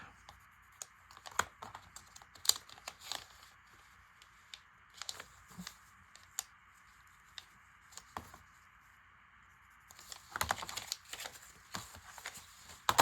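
Paper torn by hand while binding a junk journal, a series of short dry rips scattered through quiet, with a denser burst of tearing near the end, close and fairly soft.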